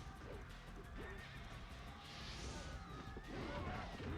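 A horse in Dynasty Warriors 2 neighs loudly amid clattering hoofbeats and battlefield clashes, the whinny rising over a busy, continuous din.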